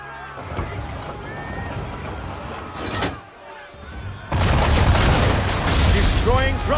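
Ship cannon fire in Assassin's Creed III, several loud booms rolling out over water during a naval fight, with a burst of heavy blasts and crashing debris in the second half, under ongoing game voices.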